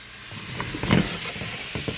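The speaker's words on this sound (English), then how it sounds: "Now, give it a good stir." Potatoes with minced garlic and seasonings are stirred in a hot pan, a close, continuous sizzle with soft scraping and shuffling of the pieces, without voices.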